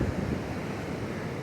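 Pacific Ocean waves wash up on an eroding beach in a steady, close rush of surf with wind noise buffeting the microphone.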